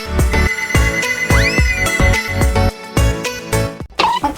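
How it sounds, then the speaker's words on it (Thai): A telephone rings in a hotel room during quarantine, a repeating electronic ringtone in regular bursts with short melodic sweeps, loud and close with no talking over it. "ที่นารับโทรศัพท์จากเจ้าหน้าที่โรงแรมค่ะ"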